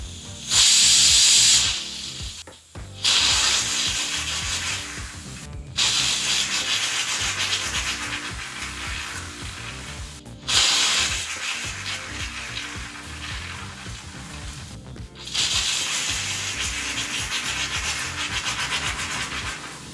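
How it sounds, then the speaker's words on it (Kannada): Pressure cooker cooking moong dal for payasa lets out loud, steamy hissing whistles in several long bursts separated by brief gaps, with no voices. "ಕುಕ್ಕರ್ ಲಿಡ್ನ ಮುಚ್ಚಿ ಒಂದು ನಾಲ್ಕು ವಿಸಲ್ ಬರೋವರೆಗೂ ಕೂಗಿಸ್ಕೋಬೇಕಾಗತ್ತೆ"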